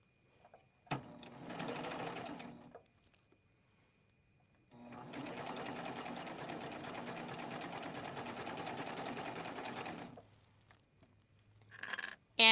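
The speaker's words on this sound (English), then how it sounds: "And then I'm gonna stitch." A serger sewing machine stitches a fabric casserole carrier, with a short burst of stitching followed by a longer steady run of rapid mechanical whirring, close and clear, then a brief final burst.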